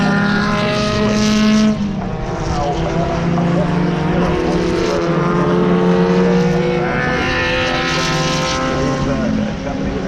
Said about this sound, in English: Now it is a mixture of sort of former Grand Prix cars out there